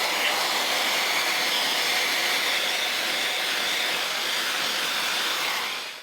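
A T3 Aire IQ hair dryer runs on its fourth heat setting and second speed with a quick-dry attachment, giving a loud, constant close airflow roar that cuts off near the end.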